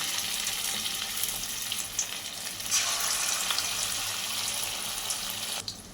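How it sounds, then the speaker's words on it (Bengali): Small chicken pakoras frying in hot oil over a gas flame make a continuous loud, hissing sizzle that holds steady throughout before cutting off abruptly near the end. "তেলটা যখন গরম হয়ে যাবে তখন গ্যাসের ফ্লেমটা লোতে রেখে এরকম ছোট ছোট পকোড়া আকারে তেলের মধ্যে দিয়ে দিতে হবে"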